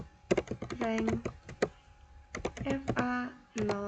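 Computer keyboard keys clatter in quick clustered bursts of sharp taps with short pauses between them, close by, as a voice speaks over the typing.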